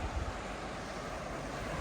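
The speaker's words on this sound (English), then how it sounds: "It's a bit windy out there today, not that bad," Steady wind buffeting the microphone with surf washing in on the beach at Leysdown, Kent, a continuous broadband roar close and fairly loud with no pauses.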